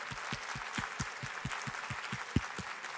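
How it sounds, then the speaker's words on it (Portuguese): Audience applause closing a panel session at the Cogea 2018 event, a steady wash of many hands clapping at moderate volume, with low rhythmic thumps running underneath and one sharp louder clap near the end. "Uma salva de palmas para essa turma da MCI."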